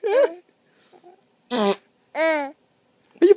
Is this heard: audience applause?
no